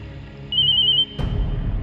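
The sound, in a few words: mobile phone ringing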